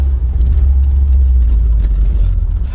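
An open-top MG F sports car engine runs loud and close with a low, steady rumble, mixed with rushing air and road noise.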